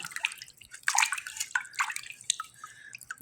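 Pounded vegetable shells are rinsed by hand in water, giving soft drips, splashes and sloshing close by, with no talk.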